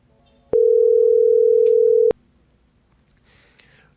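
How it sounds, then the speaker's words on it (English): An outbound call from a mobile VoIP softphone app sounds a single steady electronic tone lasting about a second and a half, clean and loud, followed by quiet with faint clicks. "I'm going to place an outbound call to 111, so I'll just click on their contact and then click the little handset icon"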